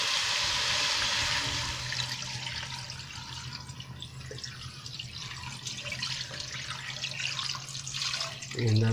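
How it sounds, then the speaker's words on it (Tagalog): Water poured from a container into a cooking pot of sautéed plicate conch, a steady splashing pour running for several seconds with a louder burst near the end. "Lagyan na natin ng tubig."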